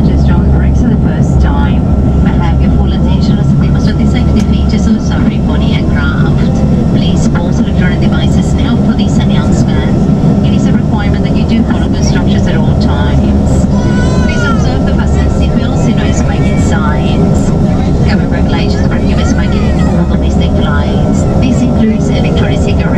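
Inside the warm cabin of a Regional Express airliner on the ground at Bamaga, the engine starts and settles into a loud, steady low drone and whine that fills the space, with a voice talking over it.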